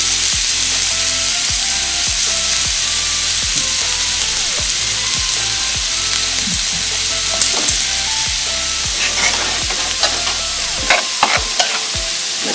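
Beef steak fries in a pan with a loud, constant sizzle close by. Regular scraping and tapping strokes, like stirring, repeat throughout, and no one talks.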